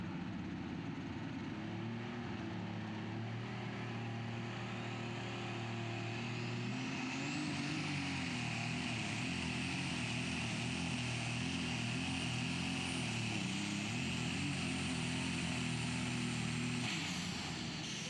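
A lightweight super stock pulling tractor, running rough, drones loudly and steadily at a 2019 tractor pull in Wheatland, Missouri, its engine pitch climbing partway through as it pulls down the track.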